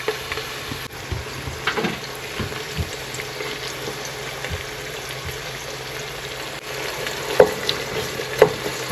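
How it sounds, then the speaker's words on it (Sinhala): Sliced onions fry gently over low heat in a pan, giving a soft continuous sizzle with scattered stirring scrapes and a few sharper pops toward the end. "ලූණු ටික පොඩ්ඩක් අඩු ගින්දරේ බදින්න ඕන මේක"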